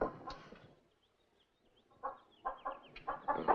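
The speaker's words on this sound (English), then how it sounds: "Let me see you track down that old hen over there." An old hen in an outdoor desert ranch setting clucks in short, irregular bursts, with a pause before a run of closer, louder clucks toward the end.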